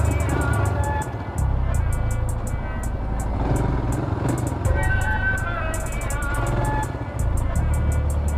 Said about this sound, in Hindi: बहुत सारे बाइक है भाई, बहुत सारे बाइक है।